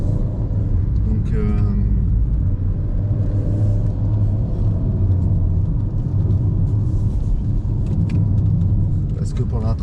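Renault 4L fitted with a Renault 5 GTL engine, driving along at a steady pace, its engine a continuous low rumble throughout with someone talking over it inside the car.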